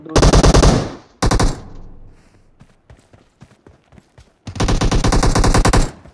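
Loud automatic gunfire in the PUBG Mobile game, two long rapid bursts with a short burst in between, separated by sparse single shots and faint footsteps.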